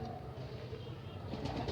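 Crossbred Malwai pigeons cooing in a loft, soft low repeated coos under a steady rumbling background hum, fairly faint and continuous.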